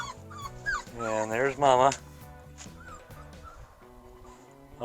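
Small 4.5-week-old puppies whimper and yip in a high, wavering rising series, with low growling beneath, close by while a person talks over them.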